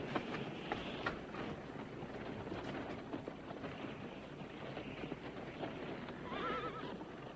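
Several horses pull a wagon down a road in a Western setting, giving a steady, fairly faint clatter of hooves and rolling movement, with a brief whinny near the end.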